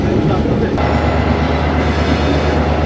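The Mohenjo-daro Express passenger train runs on rails near Sehwan Sharif station, with a steady loud rumble and rolling wheel noise heard from on board and a brief click partway through.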